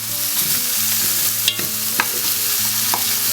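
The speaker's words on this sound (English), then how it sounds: "we're getting the correct sound from those onions now." Onions sizzling steadily in a pan for a Croatian sausage and bean stew, a loud, close, continuous fry broken by occasional stirring scrapes, with no talking.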